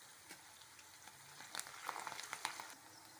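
Jackfruit chilli fries in oil with green chillies and curry leaves, a faint, even crackle and sizzle whose pops grow busier toward the end.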